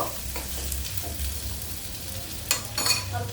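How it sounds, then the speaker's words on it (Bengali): Onion, whole garlic and whole spices such as bay leaf, cinnamon and cardamom frying in oil for a Bengali handi chicken, giving a steady low sizzle with stirring scrapes and a couple of brighter clinks near the end. "এটাকে আমি কিছুক্ষণ ভাজা ভাজা করে নেব।"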